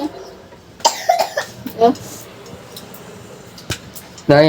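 A man coughs in a home, a cluster of several harsh, close coughs early on followed by a single later cough, with other household voices briefly audible.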